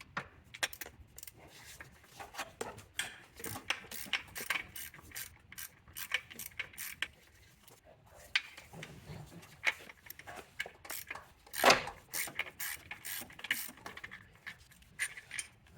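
Ratchet wrench turning out the starter bolts on a 2016–2022 Mercedes-Benz GLC X253, bursts of fast clicking pawl ratcheting with metallic clinks and rattles, close but fairly quiet, in intermittent stretches over about fifteen seconds.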